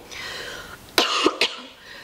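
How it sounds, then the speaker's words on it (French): A woman coughs twice in quick succession, two sharp, close bursts about half a second apart with no talking. "j'ai tendance à tousser énormément de cette vidéo"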